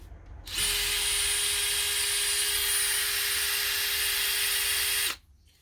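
A drill spinning a carpet brush attachment for car carpet detailing spins up with a high, steady whir for several seconds, then stops abruptly; no voices.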